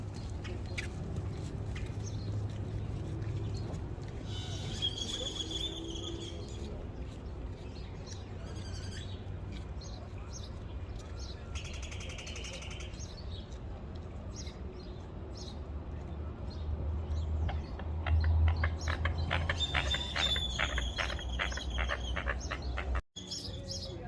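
Birds chirp and call around a boat on Lake Havasu, scattered tweets and brief calls over a low steady engine or water rumble, with a burst of busier chirping near the end.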